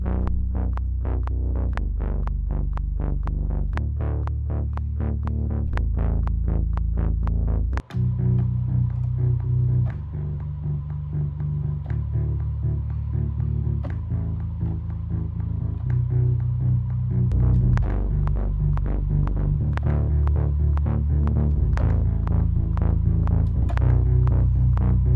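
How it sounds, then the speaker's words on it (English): Layered bass loop from Logic Pro's Bass Patterns, following chord root notes in a steady repeating groove, loud and continuous, with a brief dropout partway through and no talking. "here's another bass I found that I'm going to layer in with the root notes of our chord progression"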